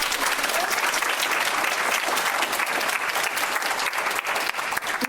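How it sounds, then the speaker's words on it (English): A round of applause from a conference audience, dense and steady clapping filling the room throughout the short stretch. "let's have a round of applause for all of"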